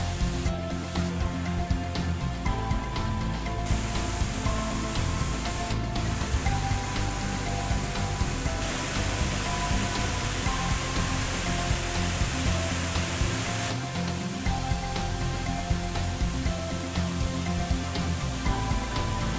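Waterfall in South Sumatra, Indonesia, dropping into a 4-metre-deep pool: a steady, dense broadband rush of falling water, continuous and loud with no pauses or voices.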